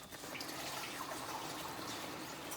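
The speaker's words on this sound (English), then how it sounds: "So we're going to add some more water." Water pours steadily from a container into a pan of country gravy on the stove, a soft continuous splashing rush with no voices over it.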